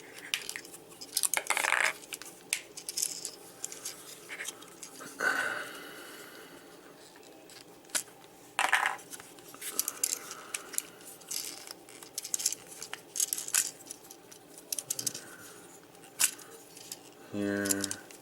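Plastic parts clicking and snapping as a Transformers Titans Return Deluxe Brainstorm figure is transformed: scattered sharp ticks and rattles of varying loudness, with a few bigger clacks, some heard alone and some alongside a quiet voice.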